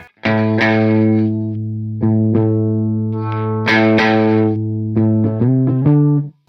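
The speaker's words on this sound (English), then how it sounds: "with that tone on the guitar all the way down, which is immensely dark." Valiant Jupiter Offset electric guitar with its tone knob rolled fully down, playing loud, dark sustained chords and notes through effects, struck in several separate phrases with no talking.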